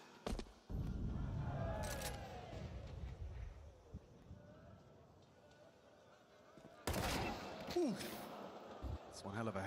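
Gunshots from a Counter-Strike grand final between Spirit and FUT at the Esports World Cup pop in sharp bursts, including a headshot. Commentators talk excitedly over the shots throughout.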